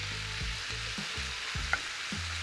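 Onions and beef frying in a pan, a continuous moderate sizzle with a rhythmic series of spatula scrapes and stirs, close and without talk.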